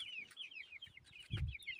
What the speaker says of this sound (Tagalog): At ang aming binili na mga manok, malalaki na.